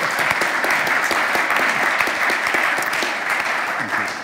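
Audience applause at a panel discussion on the future of music, a dense, steady wash of many hands clapping close and loud, holding for about four seconds before easing slightly at the end.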